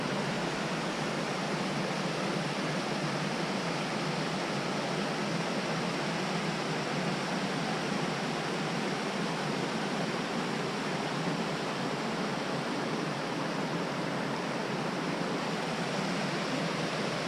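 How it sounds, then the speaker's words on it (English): Waterfalls on a stream along the Arizona Trail, swollen with brown snowmelt runoff, a constant broadband roar that stays steady and unbroken throughout, close and alone without voices. "I was walking on the trail just a little bit back there and I heard these waterfalls."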